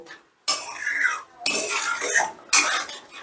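A spoon scrapes and stirs masala for paneer do pyaza in a hot pan, making three loud, close scraping bursts with brief pauses between them.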